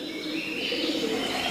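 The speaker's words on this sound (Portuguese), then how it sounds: "Pombos e morcegos partilham locais preservados de qualquer tipo de civilização." Pigeons coo in a cave in Thailand, soft repeated calls blending into a dense, echoing ambient wash, with no voices.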